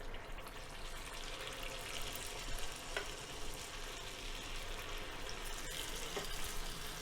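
Millet paniyaram batter goes into hot oil in the wells of a paniyaram pan, giving a faint, even sizzling hiss with a few soft ticks, steady and quiet with no voices.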